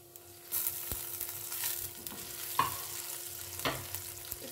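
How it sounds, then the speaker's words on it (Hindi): Chopped carrots are sautéed in a pan, producing a moderate sizzle with repeated scraping stirs from a spatula at irregular intervals and one sharp clink of metal. "इसको हम थोड़ा सा सौते करेंगे"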